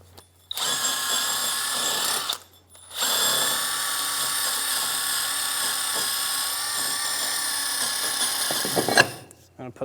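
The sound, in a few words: wire wheel cleaning brake hub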